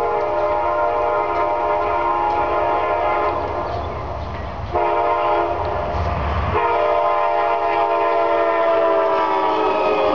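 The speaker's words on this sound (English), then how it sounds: "Here comes Amtrak." Amtrak passenger train passing with a Hermitage unit as the second locomotive, loud sustained horn blasts over the rumble of the train, a brief dip in the middle and then the horn resumes, near and prominent throughout.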